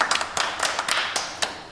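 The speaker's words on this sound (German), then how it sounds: "Diese gezwungenen Klatschen." Rhythmic hand claps in a club rap song, a quick burst of sharp, close, evenly spaced claps without voices.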